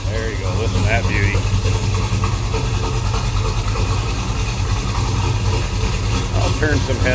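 A 1970 Chevrolet El Camino engine idling low after warming up from a cold start, a steady, continuous rumble heard up close throughout.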